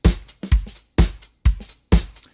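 Five punchy layered kick drum hits, blended from several kick samples, land in a steady pulse about every half second, each with a deep low thump and a bright click on top, loud and alone.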